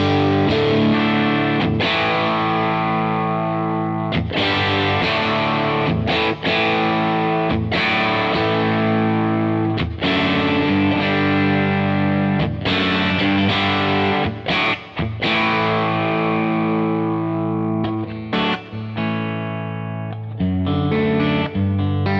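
A loud, driven electric guitar plays chords and riffs through a J Rockett Airchild Six Sixty compressor pedal boosting the amp, with a thick, boosted crunch, sustained and dense throughout, no talking.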